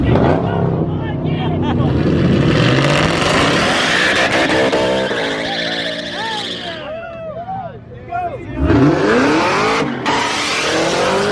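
A supercharged car at a car meet revs hard and spins its tires, giving a loud engine roar, rising and falling revs and squealing tires, while a crowd shouts and talks close by.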